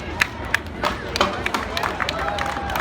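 Crowd cheering and clapping at a 275mm tree felling handicap competition in Sydney, with sharp claps and shouts rising over steady crowd noise and background chatter.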